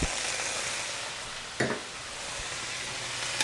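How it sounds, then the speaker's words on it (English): A hot pan sizzling as it is deglazed with red wine after searing ostrich meat, the pan on residual oven heat, giving a steady close hiss with one brief louder burst midway and no voices. "Deglaze the pan. Maybe some red wine. Yes, that's red wine. To deglaze the pan with."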